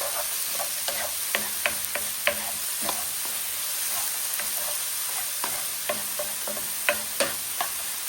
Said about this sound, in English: Let's just saute this a bit. Ooh, pepper, garlic.